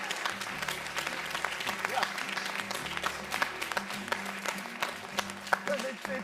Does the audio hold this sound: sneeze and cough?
no